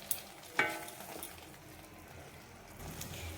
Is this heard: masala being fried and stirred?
yes